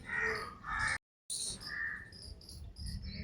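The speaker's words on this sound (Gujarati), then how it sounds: "કેટલા પક્ષી અવાજ કેટલો મસ્ત" Crows caw loudly and repeatedly near a temple, with nearby calls overlapping a steady insect chirr. The calls come in clusters, broken by a brief silent gap, and no one talks.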